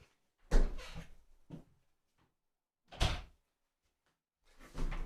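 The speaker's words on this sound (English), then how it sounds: "Let me just close the door, just a second." An indoor door is swung shut: a louder rattling close with a small follow-up knock, then two more separate thuds spaced a couple of seconds apart, each against near silence.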